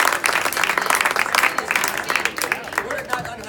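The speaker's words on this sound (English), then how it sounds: "Give them a round of applause" Applause from an audience at an evening event on Jewish culinary history in Toronto, fairly near and steady for a few seconds, mixed with crowd noise and a voice speaking over it.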